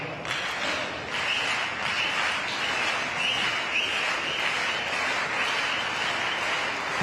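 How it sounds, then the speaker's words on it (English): Players on both benches at a pro padel match applaud, a continuous patter of clapping with a steady hiss behind it, moderately loud and unbroken across the stretch. "Both benches applauding."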